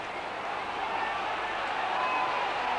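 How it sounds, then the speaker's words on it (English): Huge crowd of about 53,000 roaring at the 1975 Norwood v Glenelg football grand final, a dense, sustained, rising wash of cheering. "Listen to that crowd."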